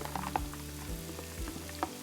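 Chopped vegetables frying in olive oil and melted butter in a deep, high-sided 7-quart skillet for Bolognese sauce, a soft steady sizzle with a few light clicks of stirring.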